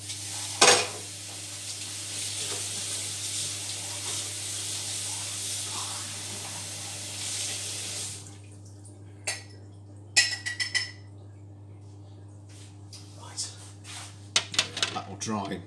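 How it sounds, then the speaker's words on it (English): Jars and dishes being washed up at a kitchen sink during jam making, with a steady hiss of running water for several seconds, then scattered clinks and clatters of glass and crockery. "Right, let's quickly wash this up."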